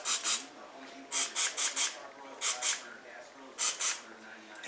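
Aerosol can of Speed Clean motor cleaner sprayed onto the axle joints of an RC crawler in short, sharp hissing bursts, mostly in pairs and triplets, close to the microphone.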